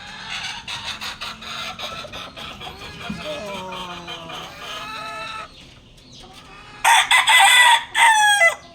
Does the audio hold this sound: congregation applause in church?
no